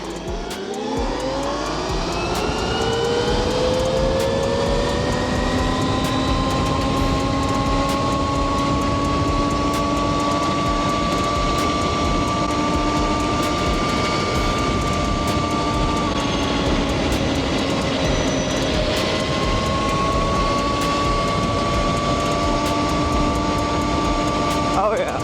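An electric dirt bike accelerates with a rising electric motor whine that climbs in pitch, then holds steady, dips and climbs again, loud and close over continuous rushing noise.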